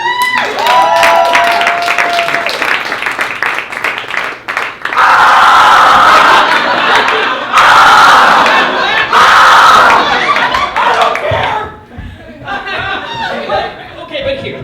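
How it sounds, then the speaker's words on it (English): A comedy club crowd at a late-night showcase claps and cheers loudly, with bursts of whooping and shouting swelling in waves, then settling into laughter and chatter. "Huge round of applause as you would."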